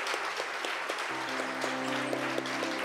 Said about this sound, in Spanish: Denle un aplauso fuerte al Señor.